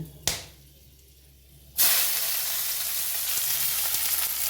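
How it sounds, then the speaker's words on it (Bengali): Onions frying with cardamom, cinnamon and other whole spices in hot mustard oil for chicken tehari. A sharp tap comes first, then a quiet pause, then a loud, steady close sizzle that bursts up and holds. "আর অল্প পেঁয়াজ দিচ্ছি মাংসটাকে কষানোর জন্য।"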